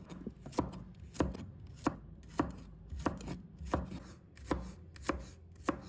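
A knife slices garlic cloves on a cutting board, giving about a dozen crisp, evenly spaced chops, close and moderately quiet with short pauses between strokes and no voices.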